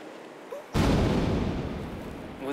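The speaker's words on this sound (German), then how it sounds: "Es ist die Mittagskanone eines schottischen Lords." The noon cannon in Nice fires a single booming blast that hits suddenly after a quiet lead-in, then rolls and echoes with a long, slowly fading rumble across the city.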